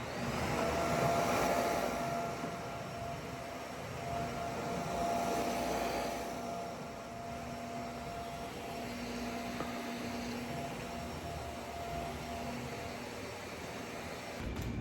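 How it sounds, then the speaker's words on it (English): A vacuum cleaner runs steadily in an empty New York City apartment near the windows, a soft constant whir and hiss with a faint tonal hum, moderately distant and without talk. "I think I might vacuum like right in front of the windows again"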